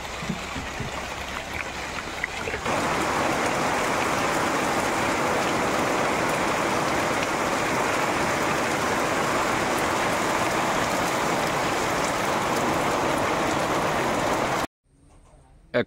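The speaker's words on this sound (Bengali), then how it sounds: "বলতে না বলতে বৃষ্টি এসে গেছে" Sudden rain in the Sundarbans countryside, a dense steady hiss of heavy drops on surfaces that swells in after a couple of seconds and holds loud and even until cutting off.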